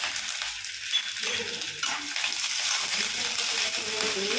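Mustard seeds, split black gram, curry leaves and dried red chillies tempering in hot oil for a coconut pigeon-pea curry, a steady close hiss of frying with faint stirring.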